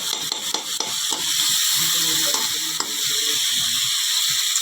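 Vegetables (potatoes, peas and carrots) sizzle loudly in a hot kadhai, with a spoon scraping and stirring through the frying in repeated strokes, close up.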